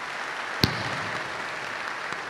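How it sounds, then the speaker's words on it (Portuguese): Audience in a formal solemn session honoring chaplains applauds, a soft, even wash of clapping from a fairly distant crowd, broken by one sharp close thump. "Uma salva de palmas para eles todos."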